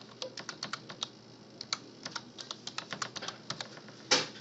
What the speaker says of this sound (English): Now it's going to ask me for my username and password for Denise.